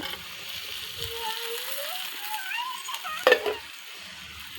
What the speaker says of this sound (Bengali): নাড়াচাড়া করব ভালো করে। এবার শসাটা ভেজে রেখেছিলাম ওইটা এবার দিয়ে দিব।